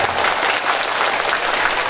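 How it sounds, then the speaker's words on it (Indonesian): Audience at a religious gathering breaking into lively applause, a close, loud, continuous patter of many hands clapping throughout, with no speech on top. "Tepuk tangan paling meriah."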